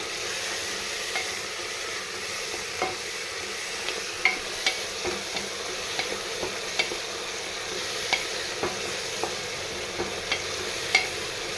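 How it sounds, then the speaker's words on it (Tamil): Onions and tomatoes sauté in a pan with a continuous frying sizzle, punctuated by regular light scrapes and taps of a stirring spoon against the pan. "பாருங்கள், தக்காளி வெங்காயம் நல்லா வதங்கிருச்சு."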